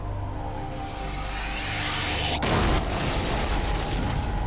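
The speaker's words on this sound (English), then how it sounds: "A huge explosion rocks the FBI's office." A huge bomb explosion at an FBI office, staged in a documentary reenactment: low droning builds, then a sudden loud blast bursts in and leaves a sustained roaring, crackling rumble afterward.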